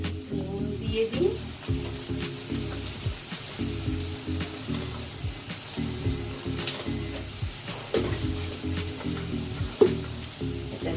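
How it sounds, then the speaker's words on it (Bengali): Diced potatoes fry in a pan for a vegetarian fig (dumur) curry, giving a steady close sizzle with low clatter and faint background speech-like sounds throughout. "আলুটা ভাজা হয়ে গেছে"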